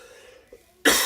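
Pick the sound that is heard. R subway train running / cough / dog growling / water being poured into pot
cough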